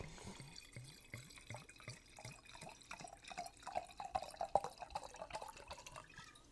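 Wine poured into a glass at a table, a steady liquid trickle with rising gurgling drips that brighten toward the end, close and moderately loud, with no talk over it.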